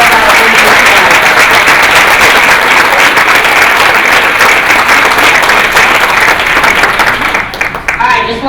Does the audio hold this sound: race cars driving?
no